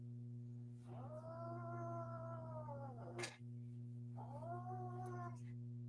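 A house cat lets out two long, wavering yowls, a drawn-out caterwaul followed by a shorter second one, close and loud over a steady low electrical hum, with no talking.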